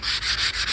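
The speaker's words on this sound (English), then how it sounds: "I don't want to take any more wood off." Steady sanding on a wooden TV unit tabletop during a refurbishment, a loud continuous abrasive rasp pulsing in regular strokes about every sixth of a second, close and alone without talk.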